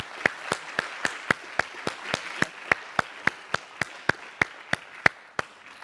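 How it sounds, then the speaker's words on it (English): Audience applause at a statistics discussion meeting: a single pair of hands claps in a steady, even rhythm, about three claps per second, close and clear against a quiet background. "we're now applauding what we've heard up to now"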